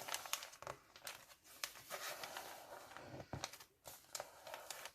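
A paper envelope being folded down into a journal pocket tuck, giving soft continuous crinkling and crumpling with small crisp creases throughout, close and quiet, with no voices.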